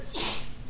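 A single quick sneeze in a land use board meeting room, one short burst of breath that is over in well under a second.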